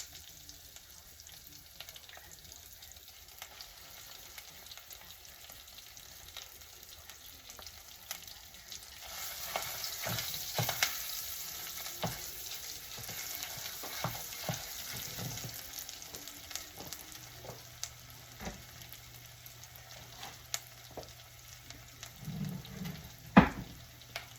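Peanut butter stew simmering in a pot while being stirred: soft bubbling and a low sizzle throughout, with scattered scraping clicks of a spoon against the pot growing busier midway, heard alone with no talk.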